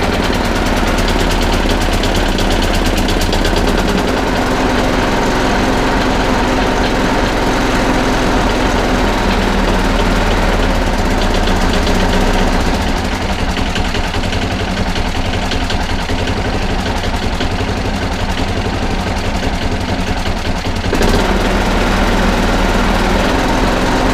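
An old lawnmower left unused for two years starts and runs, its small engine rattling loud and continuous with a rapid, uneven popping and sputtering throughout.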